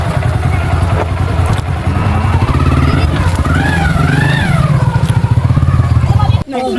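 A motorcycle engine idles and revs loudly nearby, with people talking over it, before the sound cuts off abruptly near the end.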